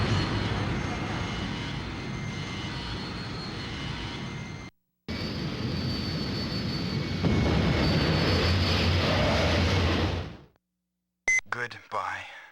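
Space shuttle takeoff in a game, a loud, steady roar of rocket engines that cuts out briefly and then returns for several seconds before dropping away, followed by a few short electronic sounds.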